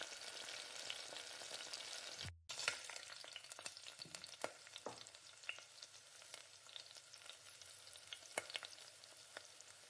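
Carrot and beans sautéing with salt in a pan give a steady, close sizzle and crackle, with scattered stirring clicks and a brief dropout near the start.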